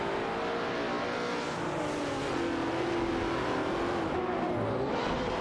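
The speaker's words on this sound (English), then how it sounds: "The Nissan GTR Nismo is challenging the Aston Martin Vantage AMR as they continue to" Nissan GT-R Nismo and Aston Martin Vantage AMR race cars in a racing video game, steady engine roar with rising and shifting revs at constant loudness.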